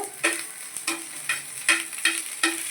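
Curry leaves and seasoning fry in a pan for raw rice upma, sizzling steadily while a utensil scrapes and stirs in a quick run of six or seven close strokes, with no talk.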